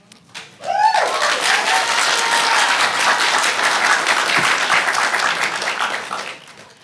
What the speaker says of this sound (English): That was the appropriate time to cheer, not in the middle of comments.